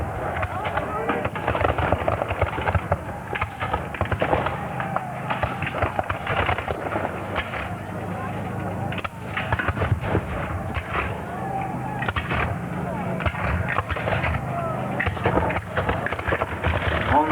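Continuous popping volleys of musket fire and booming artillery at a 1999 American Civil War battle re-enactment, rolling and overlapping in the distance beneath steady narration.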